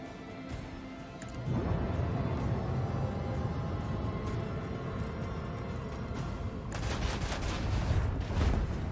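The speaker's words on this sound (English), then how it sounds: "I think we can actually hit it with both banks of mag guns" Starship mag gun batteries fire in the Warhammer 40k Rogue Trader video game, heard as a sustained rumbling barrage with repeated booms, swelling again with a louder burst near the end.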